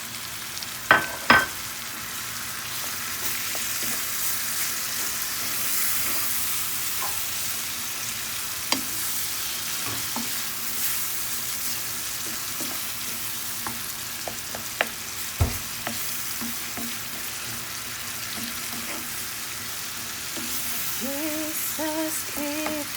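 Tomatoes sizzle steadily in a hot pan for a plain tomato stew, a soft continuous frying hiss with occasional scrapes and clinks of a spoon stirring, close and moderately quiet, no talking.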